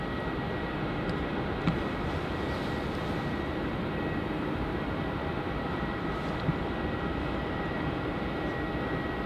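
A Virgin Australia Boeing 737-800 arriving at Melbourne Airport in heavy wet weather gives a steady, broadband jet roar at moderate distance, unbroken for the whole stretch with no voices.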